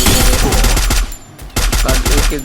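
Rapid bursts of automatic gunfire from Free Fire battle-royale gameplay in a custom match, loud and close, with sharp repeated shots in clusters separated by a brief lull.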